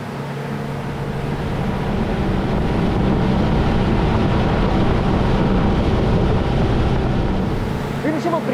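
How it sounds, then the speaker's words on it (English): Twin 300 hp Yamaha outboards on an Airon Marine AMX 36 motorboat drone steadily under broad wind and water rush, a continuous loud rumble throughout with no speech. "In the stern today, we have two 300 horsepower Yamahas, 600 total horsepower"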